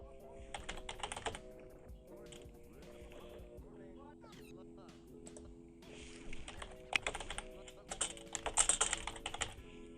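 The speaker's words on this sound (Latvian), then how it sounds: "Un varam vienkārši sākt rakstīt." Fingers typing text on a computer keyboard, producing irregular runs of light clicking keystrokes that come in bursts with short pauses, close up and clear, with a faint background tone underneath.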